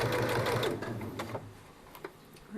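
A sewing machine stitches around the edge of a drawstring bag, a fast close mechanical whir in the first moment that breaks into a few short bursts and stops.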